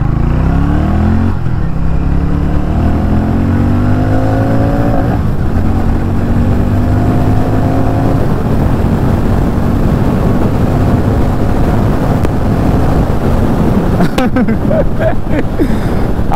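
A Harley-Davidson X440 with a 440cc oil-cooled engine revs hard up close, its loud tone climbing through repeated rising sweeps as it accelerates, then settling into a rough, sustained roar.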